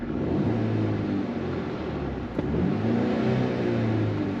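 A Mercedes-Benz E300 (A238) petrol engine revs up loudly and holds near its soft limiter just before 4,000 RPM, a steady droning whir with a brief blip midway.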